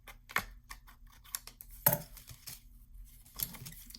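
A paper project card is trimmed with a few sharp, close snips and clicks, spaced irregularly across quiet pauses, with no talk.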